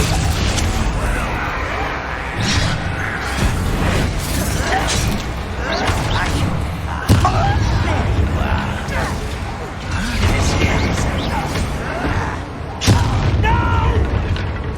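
Spell impacts slam an enemy down during a Hogwarts Legacy combat encounter, heavy booms and crashes repeating over a busy, loud mix of game noise, with brief spoken voices amid the fray.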